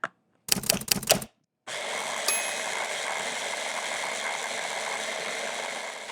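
A food processor whirring an herb and lemon sauce in two bursts, a short rattling pulse, then a pause and a longer steady motor drone that runs to the end, close and fairly loud with no talking.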